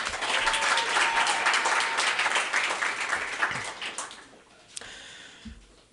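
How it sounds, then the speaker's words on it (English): Audience applause at a live storytelling event, a dense wash of clapping for the storyteller that stays full for about four seconds and then thins out to scattered claps. "another round of applause for Steve."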